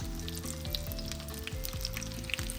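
Eggplant omelette (tortang talong) fries in oil with a steady, close crackling sizzle and bursts of spattering, alone with no voices.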